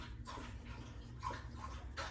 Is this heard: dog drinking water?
yes